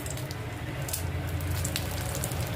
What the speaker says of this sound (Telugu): ఆ నూనెలోకి ఇప్పుడు ఆవాలు, జీలకర్ర వేసుకుంటున్నాను. 2 వట్టిమిర్చి తుంచి వేసుకుంటున్నాను.